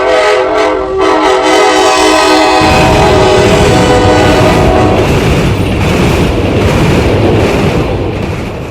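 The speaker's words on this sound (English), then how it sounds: "this is a Centytoys model of the Vande Bharat train sets" A Centytoys Vande Bharat toy train set plays its electronic sounds: a loud, sustained tonal horn for a few seconds, then a continuous rumbling, hissing train-running effect, close and steady.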